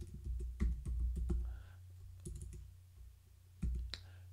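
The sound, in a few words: typing on a computer keyboard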